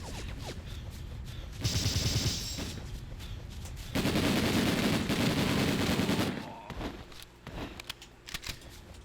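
Bursts of rapid gunfire in the 2004 video game Breakdown, a sustained volley around two seconds and a longer heavy barrage after, with faint voice between.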